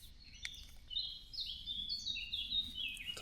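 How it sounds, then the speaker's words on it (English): Birds at dawn at a wild camping spot sing loudly and near, with bright continuous chirping and trilling phrases over a low steady background hum. "The birds are going mental."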